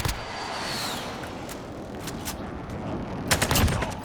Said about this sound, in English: Then I can jump over with my AK and just hold down the